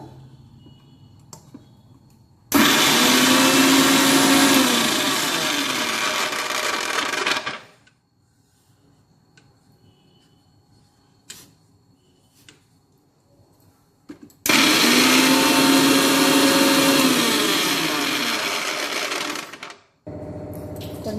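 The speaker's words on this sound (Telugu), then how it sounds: "దీన్ని ఇప్పుడు మిక్సీ పట్టుకుందాం చక్కగా" A mixer grinder blends mint leaves in two loud, steady whirring bursts of about five seconds each, separated by a quiet pause, close up with no talk.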